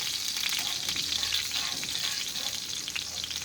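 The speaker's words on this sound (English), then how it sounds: "I'll take a spatula and make sure everything's up and good." Meat drippings sizzle steadily in a pan for red-eye gravy while a spatula scrapes them up, a close, even frying hiss with soft stirring scrapes and no talk.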